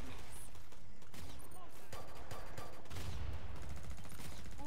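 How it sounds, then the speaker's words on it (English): Machine gun fire in the video game Killing Floor 2, dense rapid bursts of gunfire crackling through a busy, cluttered battle mix with other game effects. "Machine gun madness."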